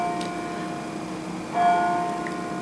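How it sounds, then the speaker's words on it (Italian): Church bell strikes with a clear ringing tone that lingers and fades, heard at moderate distance over a steady background hum, without speech. "Di nuovo campane."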